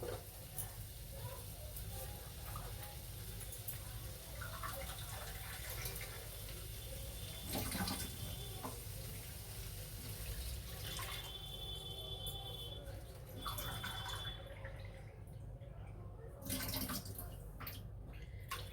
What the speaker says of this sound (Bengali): এইবারে আমি এতে পরিমাণ মতো আমার যতটা জল লাগবে ততটা আমি দিয়ে দেব